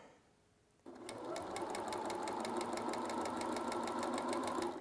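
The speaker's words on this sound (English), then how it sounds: "Sew just a little bit." A sewing machine stitches a hem in knit fabric, starting after a quiet moment and then running steadily with a fast, even mechanical rattle close by.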